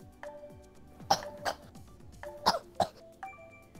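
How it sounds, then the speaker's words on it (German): Coughing and throat clearing close into a microphone, several short harsh bursts over a few seconds against a faint tonal game-music background. "Bitte nicht so laut ins Mikro husten"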